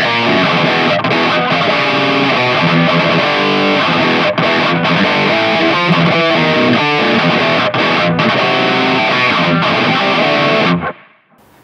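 A heavily distorted electric guitar through a DiMarzio Tone Zone bridge humbucker plays chunky, saturated high-gain riffs with brief rhythmic stops, ringing loud until it cuts off at the end.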